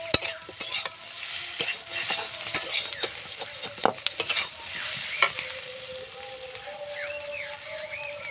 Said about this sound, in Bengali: আমার আলু আর ওলকপিটা একদম ভাজা ভাজা হয়ে গেছে